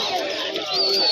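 A big-size male and female pair of lakka fantail pigeons at the Birnagar pigeon market give a brief, close, throaty coo lasting about a second amid faint market noise.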